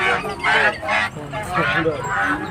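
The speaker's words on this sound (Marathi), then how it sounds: "बदक आहेत वेगवेगळ्या नमुन्याचे" Several ducks of different breeds quack in repeated loud, nasal bursts nearby at an animal exhibition, with people talking in the background.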